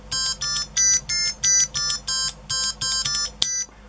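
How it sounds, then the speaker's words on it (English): Primitive chiptune synthesizer built around a Yamaha YMZ-294 sound chip plays a run of about eleven bright, square-wave beeping notes in a steady staccato rhythm, each with a clean electronic buzz, ending on a short click. "examples running on my very primitive sound synthesizer based on the Yamaha's YMZ-294"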